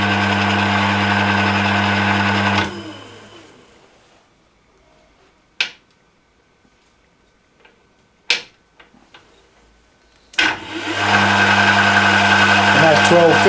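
An Emco Maximat V10-P metal lathe runs at 315 rpm with a steady mechanical hum and a faint rattle. It winds down to near silence with a few sharp clicks, then starts up again.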